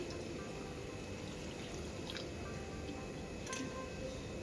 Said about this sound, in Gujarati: હવે આપણે આ જે મીઠું નાખ્યું છે એને આ રીતે પાણી નાખશું